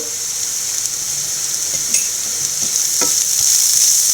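Grated coconut with chopped green chilli and turmeric being sautéed in a pan, a steady close sizzle broken by scattered scraping strokes of a stirring spoon.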